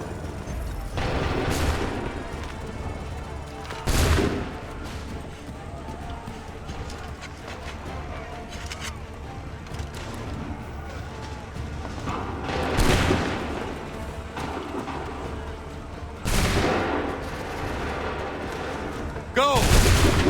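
Soldiers opening fire in Assassin's Creed 3, several loud booming volleys spaced seconds apart over clopping hooves and background din, with voices speaking between shots.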